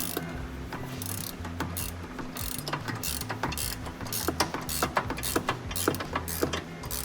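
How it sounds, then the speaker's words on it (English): A ratcheting wrench turns the nut on an Audi rear sway bar end link, giving steady, close, rhythmic ratchet clicks with a metallic tone and a continuous mechanical background. "put my ratcheting wrench on there"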